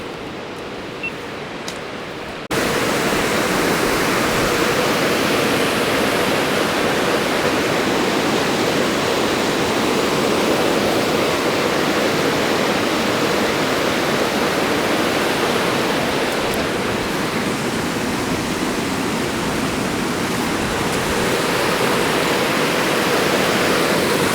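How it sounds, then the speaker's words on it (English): A waterfall in Malhamdale, Yorkshire Dales, roars steadily and loudly after a brief quiet start, a dense continuous rush of falling water with no voices. "there is plenty of water in the waterfall as well."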